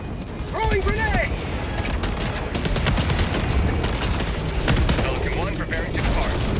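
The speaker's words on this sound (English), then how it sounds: "Throwing grenade." Gunfire in the Helldivers 2 video game, rapid mechanical rattling shots running throughout with a heavier burst near the middle. Chirping sweeps come and go above the noise, and a voice speaks over part of it.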